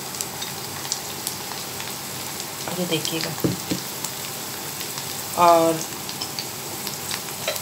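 Ginger, garlic and chili fry in hot oil for beef karahi, sizzling steadily up close with brief stirring scrapes, while a voice speaks briefly over it.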